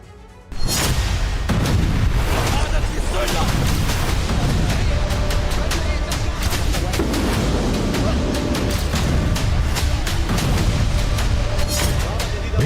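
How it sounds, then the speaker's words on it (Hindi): Israeli bombardment in Syria: a continuous roar of explosions and heavy booms, one after another, loud and dense throughout with no pause. "एक के बाद एक धमाके हो रहे हैं"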